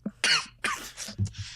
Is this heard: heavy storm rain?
no